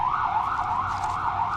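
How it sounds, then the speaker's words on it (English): An emergency siren wailing on a New York street in Astoria, Queens, a steady rising-and-falling tone carried over low traffic rumble at moderate distance. "we have the soothing sounds of the sirens of New York"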